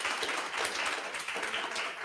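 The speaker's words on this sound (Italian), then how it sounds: "un applauso e un applauso anche a voi tutti" Audience applause after an Italian UX talk, a dense steady wash of many hands clapping at moderate level throughout, with no voices standing out.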